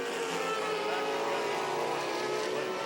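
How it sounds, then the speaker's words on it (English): A Riley Scott chassis race car with an Aurora engine at the 1996 IMSA Mosport 500, a steady, fairly faint high-pitched engine whine that holds its pitch over a hissy background. "Wayne Taylor, of course, is spearheading the Riley Scott campaign this year with that Aurora engine, Riley Scott chassis, and it is a very, very quick car"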